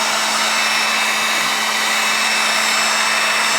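A heat gun blows hot air at full speed to strip window tint film from an Audi's glass, a loud, steady whirring blast that holds constant and alone throughout.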